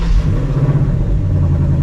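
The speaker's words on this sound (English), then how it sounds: "so let's get a cold start" The V8 engine of a 2024 Ford Mustang GT with a six-speed manual fires up on a cold start, a loud, deep rumble that stays heavy and steady throughout.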